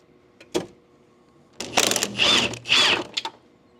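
Stuck bolts are worked loose from the body tub of a Jeep TJ: a brief knock near the start, then about a second and a half of loud, close whirring and rattling bursts from a power tool.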